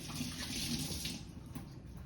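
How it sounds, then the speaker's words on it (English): A tap runs steadily while hands are washed under it, a close, moderately quiet splash of water that eases slightly partway through. "Let me wash my hands off."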